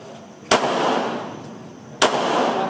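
Two sharp, loud gunshots about one and a half seconds apart at a police shooting practice drill, fired left-handed at a range, each a sudden crack followed by a lingering outdoor reverberation.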